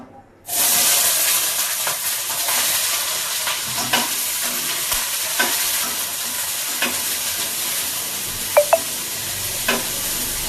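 Chopped onions fry in hot oil for an okra dish, a loud, steady sizzle that starts suddenly and continues close by, with occasional stirring clinks and pops.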